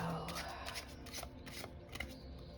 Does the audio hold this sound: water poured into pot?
no